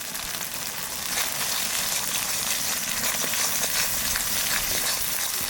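Prawns with jackfruit seeds fry with Kashmiri chilli powder, green chillies and spices in a pan, giving a loud, continuous sizzle with crackling pops and no talking.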